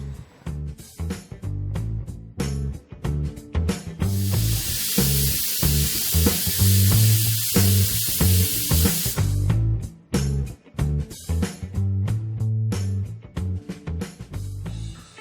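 Steady broadband hiss of steam venting from a pressure cooker holding drumstick soup, a loud sustained burst in the middle of the clip over a bed of rhythmic background music.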